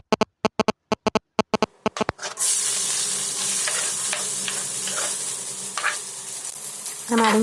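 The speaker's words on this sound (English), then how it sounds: "Let them splatter for a minute." Mustard seeds, jeera, urad dal, chana dal and curry leaves hit hot oil for a cluster beans curry, after a run of sharp ticks. Loud steady sizzling and crackling follows, with pops scattered throughout.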